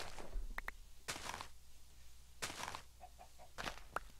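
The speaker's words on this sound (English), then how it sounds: "Hello, chicken." Clucking of a chicken in the video game Minecraft, several short, fairly faint clucks spaced irregularly, with light footsteps and small game noises between them.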